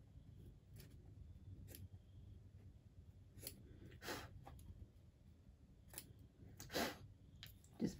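Scissors trim quilt block fabric in quiet, scattered snips, with several brief crisp cuts spaced across a faint, near-silent room, plus a soft puff of breath.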